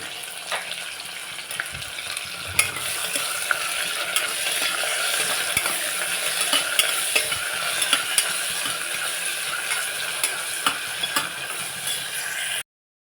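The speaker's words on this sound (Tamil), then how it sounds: "இப்போ வெங்காயம் நல்லா வதங்கியாச்சு" Onions sauté with salt in a pan while making jackfruit biryani, producing a continuous close sizzle with frequent scraping and clicking stirs scattered throughout, and no talking.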